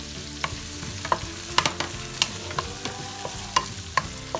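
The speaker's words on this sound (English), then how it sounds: "You have to saute it into golden brown. Onions." Onions sautéing in a pan for chicken kimchi fried rice, with a soft sizzle under repeated clicking scrapes of a utensil stirring, close and moderately quiet.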